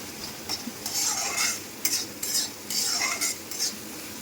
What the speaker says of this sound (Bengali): এটাকে ভালো করে নাড়াচাড়া করে নিতে হবে।